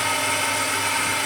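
An old tool and cutter grinder running with a loud, steady mechanical roar and whine, close by and continuous.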